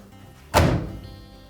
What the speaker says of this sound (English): we're ready to close the door